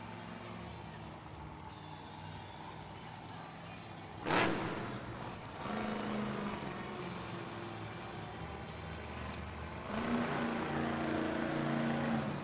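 Monster truck at a Monster Jam freestyle event in Buffalo, NY, engine roaring as it pulls a wheelie back onto its nose, a sustained loud drone with surges and a sharp burst, under arena noise.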